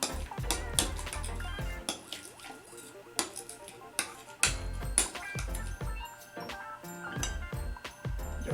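Tartar sauce mixed in a bowl, with repeated clinks and taps of a utensil against the bowl alongside soft squishy stirring, fairly close and mostly without talk.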